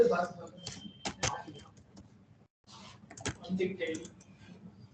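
Typing on a computer keyboard comes as scattered quick clicks and a few louder key strikes, with a brief pause midway, while a person talks throughout.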